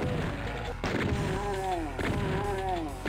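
Doom shotgun blasts sound as heavy booming shots at regular intervals, loud and close, played over game music with a tonal melody.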